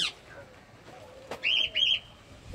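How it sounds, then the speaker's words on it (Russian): Parrots at a Sri Lanka animal enclosure give short, shrill squawking calls, two close bursts after a sharp click, fairly near over quiet background. "Ой, какие там попугаи."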